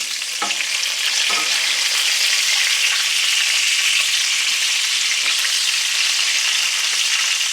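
Sausage frying in a pan, a loud, steady sizzle with faint pops and occasional scrapes, close up and with no voices.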